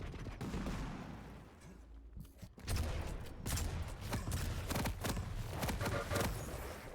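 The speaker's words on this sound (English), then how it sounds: "Those rockets not really able to hit their mark." Rapid weapon fire and explosions rattle through a Quake Pro League match between maxter and Effortless, with dense overlapping blasts, rocket launches and a brief lull before the barrage resumes loudly.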